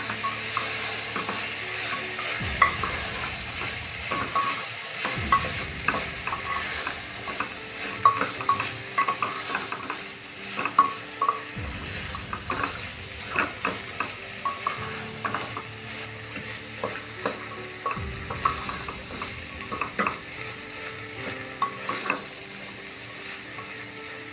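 Vegetables sautéing in a pan for masala bhaat, a steady close sizzle and crackle of frying with repeated scraping and stirring strokes, alone with no voices throughout.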